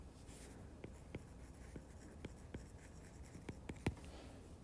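Handwriting on paper during a geometry lesson on angle pairs along a transversal: faint, scattered scratches and taps of a pen or pencil, quiet and close, with no voices.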